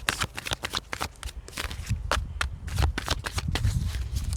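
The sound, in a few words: tarot cards being shuffled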